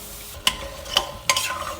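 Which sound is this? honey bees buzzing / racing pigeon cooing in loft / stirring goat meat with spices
stirring goat meat with spices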